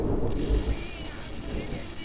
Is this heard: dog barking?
no